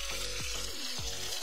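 Ginger-garlic paste fries in a pan for a Bengali new-potato dum, a brief, faint sizzle with soft stirring sounds and no talking.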